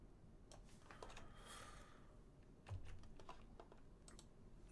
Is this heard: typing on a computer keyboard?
yes